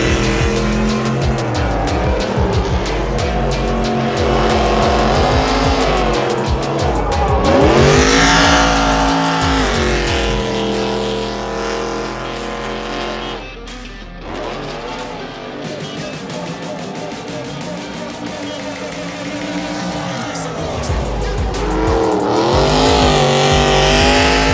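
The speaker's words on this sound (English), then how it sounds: "having fun drifting out here on the asphalt." A truck doing donuts and drifting on asphalt, with its engine revving hard and tires squealing loudly and near, rising and falling in long waves and easing off briefly midway.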